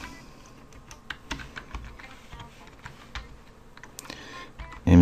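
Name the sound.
typing on a computer keyboard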